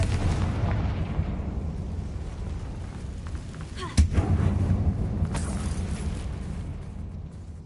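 A Confringo fire spell from Hogwarts Legacy bursts with one sharp, loud boom midway through, then a short rumbling tail over steady game ambience, with a voice speaking nearby.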